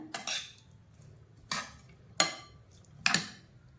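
A spoon mixing chicken sandwich filling in a bowl gives four sharp clinks, the first a quick double tap, then single scrapes and clanks spaced roughly a second apart, close and fairly quiet.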